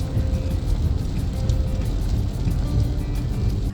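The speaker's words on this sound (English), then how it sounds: "Rainy days at theme parks can be fun in their own way." Steady rain falls at the Kennywood theme park, a dense, continuous hiss of drops pattering on surfaces with low rumbling underneath and no talk.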